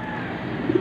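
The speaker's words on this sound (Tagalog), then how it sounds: "Pakakawala na po natin mga kalapati." Pigeons coo softly in a few low, rounded notes near the end, over a steady background hum, close by with no talking.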